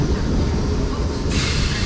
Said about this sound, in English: here comes the 1032 South Western Railway service from Hampton Court to London Waterloo